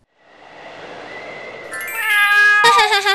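A cartoon cat meows, beginning with a rising swell of noisy breath and building into a loud, drawn-out tonal meow that grows more intense toward the end, close and alone.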